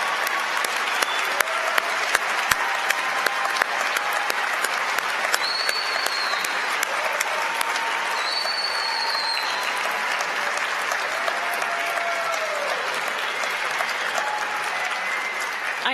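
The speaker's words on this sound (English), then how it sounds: "Let's give one more round of applause for all of the members of the class of" Steady applause from a graduation audience for the School of Pharmacy class of 2019, dense clapping that carries evenly through the whole stretch with a faint murmur of the crowd underneath.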